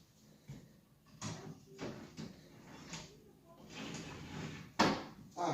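Wooden kitchen drawers being slid back into their cabinet openings during a DIY kitchen remodel, giving a few separate knocks and sliding scrapes at close range, with a person talking intermittently alongside.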